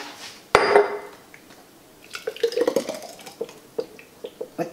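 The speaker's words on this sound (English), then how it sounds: "I'm going to fill these jars" Hot pumpkin puree goes into glass canning jars: a sharp clink of a utensil on a jar, then wet plops, scrapes and light taps of glass and metal, close by, with no talking.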